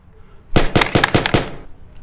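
Gunshots in a tense film scene ring out as a rapid burst of five or six loud, sharp cracks in quick succession, close and harsh, then stop abruptly with no speech over them.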